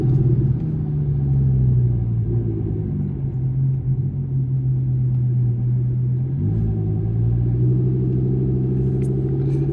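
A deep, steady Audi R8 V10 Plus engine rumble with a throaty exhaust tone, holding at a constant loud level throughout with a brief dip and rise in pitch partway.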